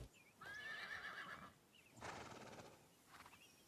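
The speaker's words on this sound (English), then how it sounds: "Those horses must have been the bandits." Horses in an anime neighing: a loud, shrill whinny, then a second harsher neigh and a shorter third call, close and clear, with faint hoof clops underneath and no speech.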